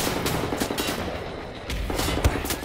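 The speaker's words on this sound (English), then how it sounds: "What is shooting? Oh, you are." Rapid gunfire from the player's weapon in Wolfenstein: The New Order, a quick run of sharp shots with a heavier burst near the end over low game rumble.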